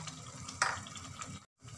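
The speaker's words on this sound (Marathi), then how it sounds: "आता थोडंसं पाणी टाकूया, मिक्सरचं मसाल्याचं पाणी होतं।" Water from the mixer jar splashes briefly into ground masala frying in a pan for a Maharashtrian katachi saar. One short pour cuts into a quiet background of soft sizzling.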